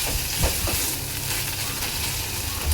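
Spice paste for Maharashtrian sev bhaji sautéing in a pan, a steady close sizzle with a few soft stirring scrapes near the start, no voices.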